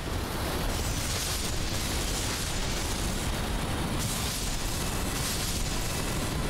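Chain explosions in the Elden Ring video game erupt as a thick, continuous roar of overlapping blasts and rumbling bursts, loud and unbroken with no talk.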